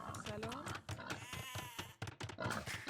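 Sheep bleat repeatedly in the video game Age of Empires II, short wavering cries layered under a caster's continuous commentary during a tournament match.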